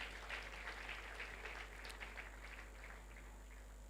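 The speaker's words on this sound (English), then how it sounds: "Please give them another round of applause." An audience at a trainers' summit in Asaba gives a round of applause for law enforcement officers, a fairly faint, distant spread of clapping that fades slightly toward the end over a steady low electrical hum.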